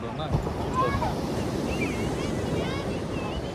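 Sea waves washing onto a quiet, deserted beach, a soft steady surf wash with some wind buffeting and faint chirpy sounds over it, moderately quiet throughout.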